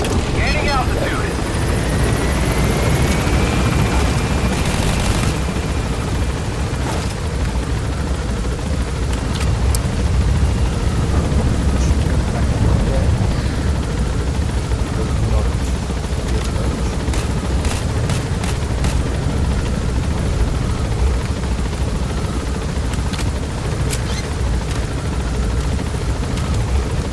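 Helicopter lifting off and gaining altitude in Metal Gear Solid V: The Phantom Pain, a loud continuous rotor and engine roar with a rising whine at the start and occasional distant gunfire or bangs, with a voice speaking over it.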